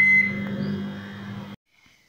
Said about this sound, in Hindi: अब हम इसको बंद करेंगे और 30 मिनट्स के लिए सिंपल माइक्रोवेव करेंगे।